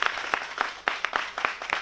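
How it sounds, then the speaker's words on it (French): Crowd at a national congress of moto-taxi drivers in Kpahou clapping for their president, a fairly faint, uneven patter with distinct sharper claps standing out at irregular intervals. "Applaudissez pour le président de la DCTM."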